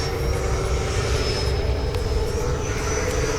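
An FMS Yak-130 70mm RC model jet roars steadily and loudly through an accelerated stall, its high turbine-like whine holding without a break over broad rushing air noise.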